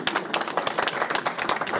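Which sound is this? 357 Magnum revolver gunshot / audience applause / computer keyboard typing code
audience applause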